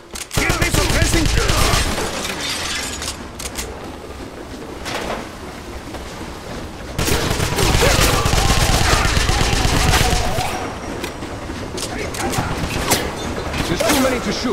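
Sustained gunfire fills a firefight in the video game Wolfenstein, set at a train station, with loud bursts of machine-gun fire and scattered shots running almost continuously while voices shout over the combat.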